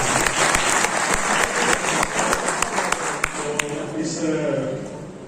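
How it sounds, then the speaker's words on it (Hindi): A university audience applauds the vice chancellor at an event, a loud dense burst of clapping with sharp individual claps standing out, tapering off near the end as a few voices murmur. "एक बार वाइस चांसलर सर के लिए जोरदार ताली दीजिए"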